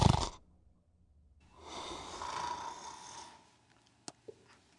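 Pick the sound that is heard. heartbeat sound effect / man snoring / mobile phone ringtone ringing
man snoring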